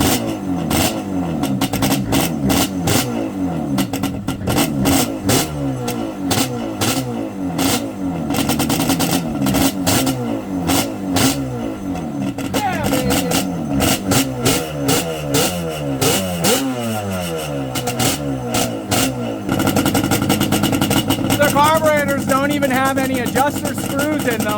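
A Yamaha Banshee 350 two-stroke engine on a new nickel-plated cylinder kit with a Chinese carburetor, revving hard in repeated rising and falling bursts, loud and close, with occasional talking in between.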